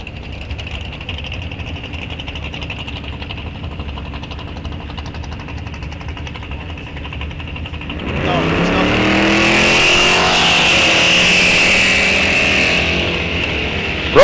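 A Pontiac drag racing car at a raceway drag strip accelerates hard down the track, its engine roar swelling loudly after a steady background drone, with a distant announcer's voice.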